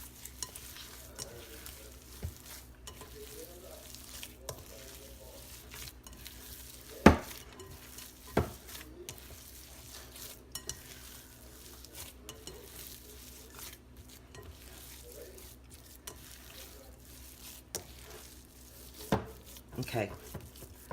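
Breadcrumbs and milk being worked by hand into a sticky meatball mixture, soft wet squishing and stirring close by, with a few sharp knocks against the bowl and faint kitchen background.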